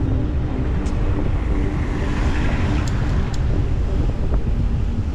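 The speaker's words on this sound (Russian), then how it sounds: "Ветер будет мешать нам." Wind roars into the microphone during a spring bike ride in Crimea, a heavy, constant low rumble of buffeting with no break, close and loud throughout.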